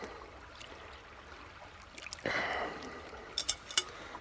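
River water poured through a cloth and strainer, a short trickling rush that swells for about a second and then gives way to a few sharp drips and taps, faint and close.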